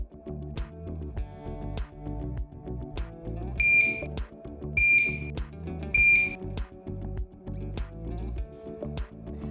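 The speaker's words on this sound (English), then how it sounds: "Pump will have a series of 3 beeps and self-check screens." Three evenly spaced electronic beeps from an infusion pump powering up and self-checking, high and clear, ring out over a steady low background hum.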